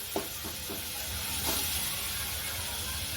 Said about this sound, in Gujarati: આ રીતે આપણે થોડીવાર તેલમાં સાતળી લેવાનું છે